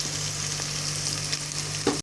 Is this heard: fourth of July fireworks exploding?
no